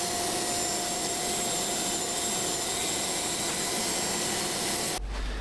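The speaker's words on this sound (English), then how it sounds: "I'm just doing some rough sanding on the outside using my power sander" A 90-degree drill used as a power sander rough-sands the outside of a cherry wood turning, giving a loud, steady whirring grind that runs without a break and then cuts off abruptly just before the end.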